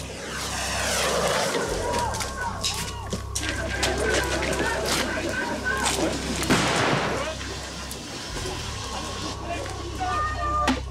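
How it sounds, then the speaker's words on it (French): Scattered sharp firecracker bangs pop amid smoke bombs during a street clash with black-clad protesters, irregular and echoing among crowd noise and shouting, some near and loud, others farther off. "Les zadistes se replient pour mieux contre-attaquer avec des fumigènes et des pétards."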